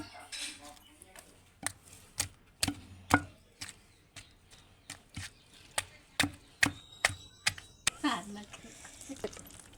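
Onions pounded with gongura chutney in a stone mortar, sharp regular thuds striking about once every half second, close and fairly loud, with a voice speaking over the start and end.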